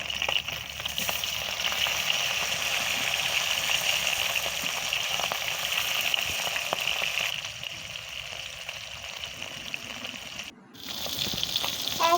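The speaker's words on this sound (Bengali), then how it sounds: "এরপর একটা একটা করে মাছ কড়াই দিয়ে ভাজতে থাকবো।" Fish pieces fry in hot mustard oil in a wok, giving a steady loud sizzle throughout that briefly dips near the end.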